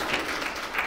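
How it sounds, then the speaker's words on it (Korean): Short burst of audience applause at a Buddhist talk during a Buddhist expo in Korea, a steady wash of many hands clapping at moderate level, fairly even throughout. "박수 한번 해주시죠."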